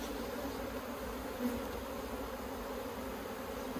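Bees buzz around an open hive during an inspection, a faint, even drone holding steady throughout.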